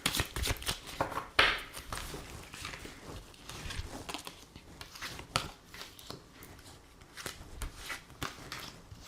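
A deck of tarot cards is shuffled by hand for a reading: repeated close riffles and soft slapping flicks in uneven bursts, with no talking.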